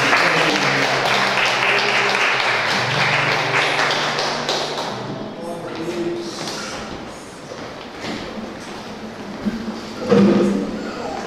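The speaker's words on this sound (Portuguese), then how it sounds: "E a salva de palmas para o Senhor." A congregation at a church service applauds for the Lord, sustained dense clapping for several seconds that gradually thins and fades, with a brief louder surge near the end.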